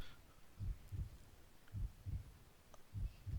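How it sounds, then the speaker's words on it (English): Slow, steady heartbeat effect from the video game It Lives Beneath, paired low thumps repeating about every second and a quarter, soft and muffled with no voices over it. "I can hear the heartbeat"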